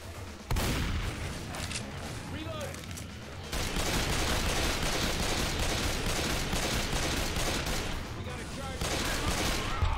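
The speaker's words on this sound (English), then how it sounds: "Wow, that was a lucky shot. Last hit off with a pistol." Dense game gunfire in Left 4 Dead 2, pistol shots among other weapons, loud and nearly continuous over a busy backdrop, with a voice speaking faintly under the noise.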